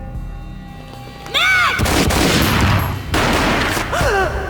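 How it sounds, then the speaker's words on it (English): Gunfire in the video game Max Payne: two heavy booming blasts, each with a long rumbling, reverberant tail, alongside whooshing, swooping tonal effects. Both are close and loud, with no talking. "A gunshot boomed and she fell down in slow motion"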